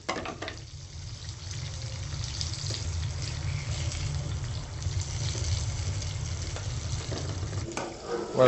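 Coarsely cut red peppers sizzle steadily in olive oil in a pan, a close, even frying hiss with faint stirring, broken by a brief clatter at the end.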